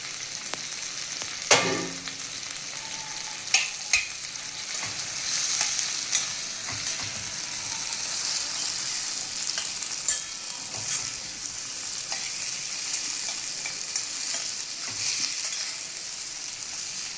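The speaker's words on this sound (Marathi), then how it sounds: "मस्त तेलात होतो तो मसाला." Spice masala sizzles in hot oil with eggplant pieces, a steady broadband frying hiss that runs throughout, broken by a few sharp stirring clinks near the start.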